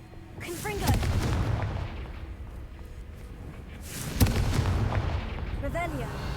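Blasting spell explosions in a Harry Potter video game, two booming bursts a few seconds apart, each followed by a rumbling roar, with game sounds and a voice between them.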